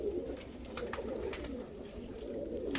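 Dutch white-tailed fancy pigeons, a hen among them, coo steadily and close by in soft repeated low calls, with light rustling in the background and no talk.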